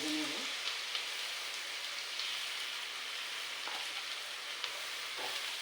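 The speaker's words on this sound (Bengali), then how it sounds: "এই যে আমি নারিকেলটা এখন ভেজে নেব।" Grated coconut fries in a little ghee in a wok, a continuous, even hiss and sizzle with occasional faint pops, heard close and without talk.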